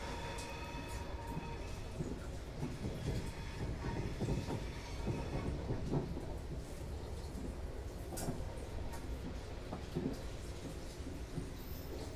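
A Class 444 electric train runs on the Portsmouth Direct Line. A steady, close rumble fills the cab, with wheel clicks over the rails and a brief squeal now and then.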